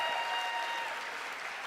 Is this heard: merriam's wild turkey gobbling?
no